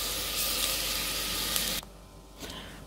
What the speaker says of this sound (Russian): Пока у меня лук с морковкой пассируется